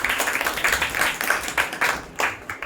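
A church congregation claps hands in a quick, steady rhythm, with crisp repeated slaps close by and a faint murmur of voices underneath.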